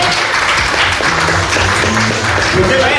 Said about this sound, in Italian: Facciamo un applauso agli altri.